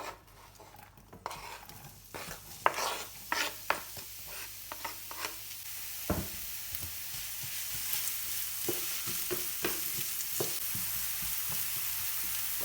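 Chopped onions drop into hot oil in a pan and sizzle steadily, with repeated scraping and stirring clicks of a utensil against the pan while cooking spaghetti sauce with minced pork.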